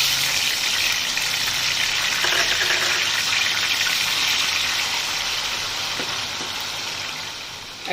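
Chopped tomato hitting hot oil with dried red chilli, cumin seeds, bay leaf, cardamom, cinnamon and cloves for paneer rezala, a loud continuous sizzle and crackle that eases slightly at the end, no talking.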